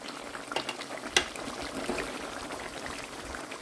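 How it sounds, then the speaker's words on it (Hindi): Nihari spice mix frying in a pan, a soft bubbling and sizzling hiss with a few sharp ticks and pops, close and fairly quiet, no talk. "और अब फिर इसको मैं बुनाई करूँगी इस मसाले की"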